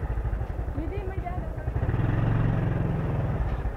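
A motorcycle engine runs close by with a low, throbbing putter that swells louder toward the middle, and people talk over it.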